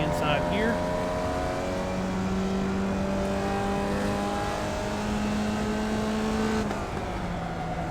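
Formula Vee race car in iRacing at Summit Point's Jefferson Circuit, its engine droning steadily with pitch shifts as it downshifts under braking, close and continuous with a voice talking over it.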